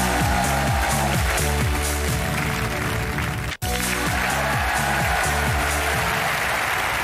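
A French television studio audience on a 2003 TF1 exam-themed show applauds steadily and loudly, the clapping blended with a bright musical jingle, cut by a brief dropout midway.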